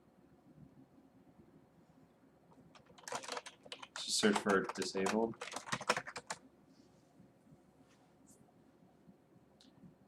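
Computer keyboard typing, a burst of rapid clicking keystrokes in the middle of the clip, fairly close and clear, with brief speech mixed in and quieter room noise before and after.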